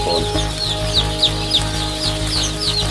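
Javanese chickens on a village farm in Cirebon cluck and crow repeatedly in overlapping bursts, a busy, close flock over a steady low farmyard hum.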